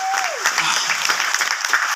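Audience applause from a crowd of clappers, dense and steady across two seconds, with a voice briefly audible at the start.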